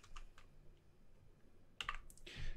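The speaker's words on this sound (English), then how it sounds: "type in HTML tag" Faint, sparse keystrokes on a computer keyboard while typing in a text editor, then a brief flurry of louder clicks near the end, with no talking.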